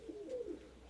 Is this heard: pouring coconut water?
no